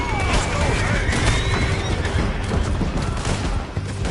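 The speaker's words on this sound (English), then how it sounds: "Left, men on horses! There's men everywhere!" Horses whinny amid a dense, loud clash of riders, hoofbeats and gunfire in a PS4 video game, a busy battle mix with a brief neigh near the start.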